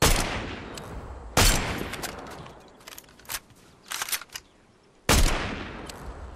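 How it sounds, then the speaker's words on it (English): Rifle gunfire in the video game Fortnite, two sharp loud cracks several seconds apart with a cluster of quicker, quieter shots and crunchy footsteps between them. "Let's use the rifle."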